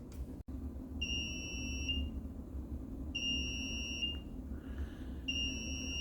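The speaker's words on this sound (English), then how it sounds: "turn it on, set the alarm" A powder coat oven control panel alarm sounds in quiet room, three evenly spaced high electronic beeps each about a second long, moderately loud, after a brief click.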